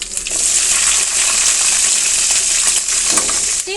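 Cumin seeds and chopped green chillies fry in hot oil, giving a loud, steady, hissing sizzle with faint crackles throughout and no talking.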